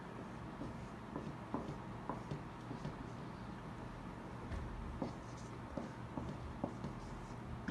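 Chalk or marker scratching across a board as a determinant is written for a matrix problem, a steady run of short scraping strokes and taps, close and moderately quiet, with no talk over it.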